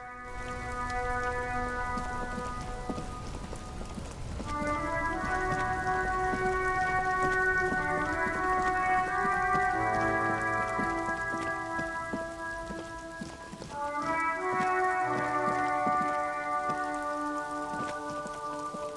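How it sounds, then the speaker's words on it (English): Steady rain patters on a police motor carriage with white-on-blue livery in the video game Disco Elysium, a constant wash of drops beneath sustained musical tones throughout. "Droplets of rain fall on the white on blue police livery of the motor carriage."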